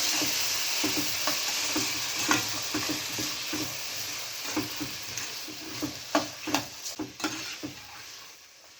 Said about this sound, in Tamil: எல்லாம் சேர்த்து மசாலாவோட நல்லா மிக்ஸ் பண்ணி விட்டுக்கலாம்.